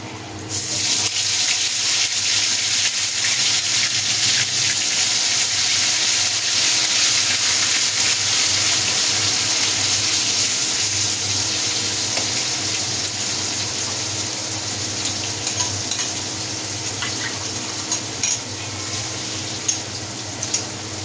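Fish frying in plenty of oil with masala gives a steady, loud broadband sizzle that runs unbroken for about twenty seconds, with no voices over it.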